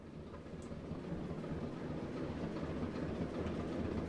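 A Great Western diesel train in Train Sim World 2 rumbles along steadily, a low continuous rolling noise that slowly builds in loudness, with no voices.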